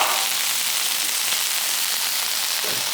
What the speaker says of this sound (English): that sizzly sound